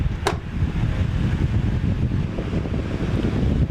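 Wind buffets a microphone fitted with a small furry windsock, blown by a fan, giving a continuous loud rumbling roar with the fan motor's hum underneath and one brief sharp click near the start.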